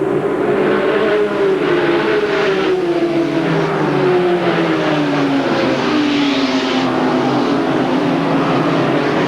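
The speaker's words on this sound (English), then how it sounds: "The Ford of Raines, the Pontiac of Eddy chasing the Chevrolet of Hansen" Stock race cars roar around an oval at LaCrosse Fair in a 1998 ASA AC-Delco Challenge Series race, with Ford, Pontiac and Chevrolet engines droning loudly and continuously, pitch gliding as the pack passes and no talk.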